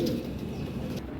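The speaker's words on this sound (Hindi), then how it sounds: "नीली आंखों के कबूतर हैं सारे" Blue-eyed Sialkoti female pigeons giving soft, low cooing at close range, a steady murmuring coo running through the whole moment with no talk over it.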